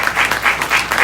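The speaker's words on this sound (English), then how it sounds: "Y'all should clap for that." An audience at a talk on part-time travel earnings claps, dense close applause with quick rolling surges, loud and alone.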